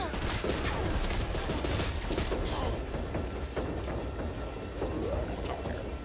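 Dense, continuous gunfire rattles without pause as players shoot hordes of zombies in the co-op video game Back 4 Blood, with repeated thumps mixed through a busy, loud combat scene.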